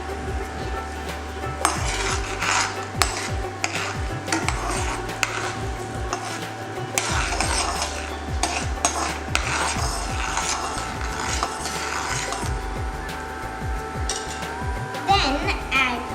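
Almonds being stirred in a metal pan while making sweet poha, a steady scraping and rattling that carries on nearly throughout, with scattered knocks of the spoon against the pan.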